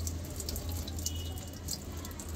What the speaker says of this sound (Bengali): এই দেখো বালতির জল কীভাবে নামছে।